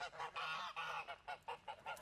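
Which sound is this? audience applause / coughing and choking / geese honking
geese honking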